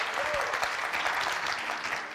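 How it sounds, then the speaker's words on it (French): Audience applause for a young fan on a French TV show, steady clapping throughout at moderate loudness, with a brief voice near the start. "On l'applaudit, c'est Solène, mesdames, messieurs."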